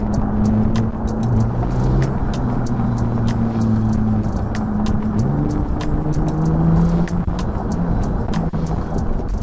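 A Porsche 992 GT3 fitted with a 1016 Industries body kit revs hard against its rev limiter, a loud, close engine howl broken by rapid stuttering cuts from the limiter, with no talking.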